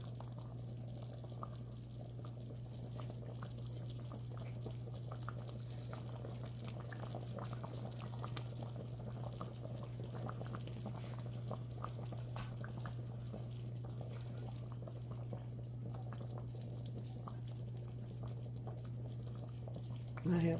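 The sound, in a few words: gravy with country fried steaks simmering on low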